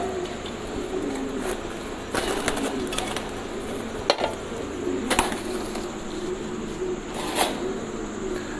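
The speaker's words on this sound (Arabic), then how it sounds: "ده فرد حمام" Pigeons in a loft cooing, low soft burbling calls close by, with a few sharp clicks and knocks scattered over a steady background hum.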